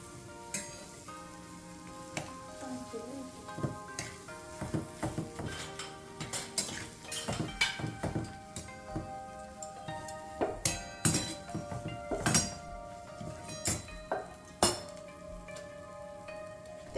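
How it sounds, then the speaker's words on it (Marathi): Boiled potatoes mixed in a bowl for veg patty filling, with irregular clinks and taps of a spoon against the bowl and soft mushy stirring throughout, close and fairly quiet. "आता हे सर्व आपण मिक्स करून घेणार आहोत"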